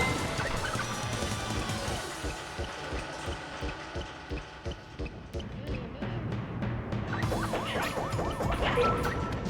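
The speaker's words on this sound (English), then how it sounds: "Bird yelling in the background." A cartoonish bird squawking and warbling in the background of the platform game Jumping Flash! 2, repeated wavering cries over busy game music and rhythmic thumping effects.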